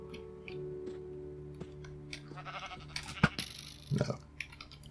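Sheep bleating in Minecraft, a short bleat rising over steady game ambience and soft background sounds, with someone talking faintly in the mix.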